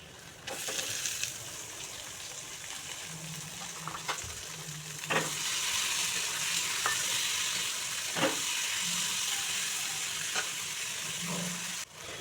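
Tomatoes tossed onto browned onions hiss gently in a pan, with a quiet steady sizzle and scattered scraping stirs and taps of a spoon, close and fairly soft.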